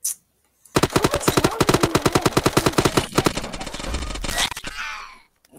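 Rapid automatic gunfire from a gun in the video game Shell Shockers, a loud, steady stream of shots that runs for several seconds and ends in a brief sustained burst.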